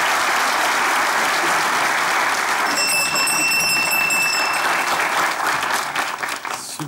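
A studio audience at a Turkish comedy sketch show applauds, loud continuous clapping from a full crowd, joined midway by a bright ringing bell tone, thinning slightly toward the end.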